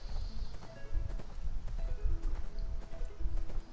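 Rhythmic horse hooves clip-clop steadily in the ArcheAge video game as a mount travels across Mirage Isle, with a few overlapping hoofbeats at moderate volume and no talk.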